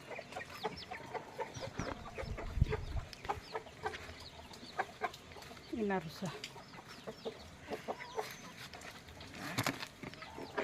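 Chickens cluck and peck close by in scattered, irregular bursts, with a short squawk midway and brief speech mixed in.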